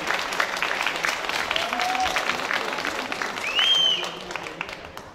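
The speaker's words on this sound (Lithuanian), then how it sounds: "Paplojam šitą nuostabiam žmogui, kad specialiai atvažiavom" Audience applause at a Joninės midsummer celebration in 2017, a steady patter of clapping from a crowd that carries on through the moment, with a brief whistle-like tone rising near the end.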